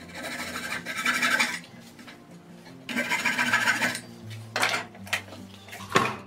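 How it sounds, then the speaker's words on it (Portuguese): A hand saw cuts through the tip of a small clamped piece of wood, with two sustained bursts of rasping strokes, then a few shorter scrapes and a sharp knock at the end, close and moderately loud. "e tira a pontinha com a serra."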